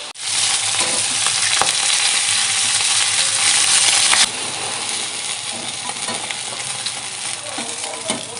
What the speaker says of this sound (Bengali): সবগুলো মাছ ভাজা হয়ে গেছে।